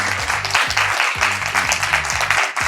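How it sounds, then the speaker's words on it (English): A room full of people claps at a talk, producing a loud, steady wash of applause over a low tonal background of music-like notes. "Can the right-hand side of the room give the left-hand side of the room a massive round of applause"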